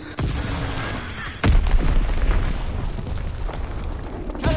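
Explosions from an Azon bomb strike in Call of Duty multiplayer boom in a loud, rumbling series, with a big blast near the start and a heavier one partway through, then sustained roaring debris and a final burst.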